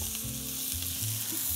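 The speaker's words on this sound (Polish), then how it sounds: "O, to już skwierczy i pachnie." A fried egg sizzling in a hot pan for breakfast, with mushrooms in the kitchen too; a close, steady crackling hiss runs throughout, alone without any talking.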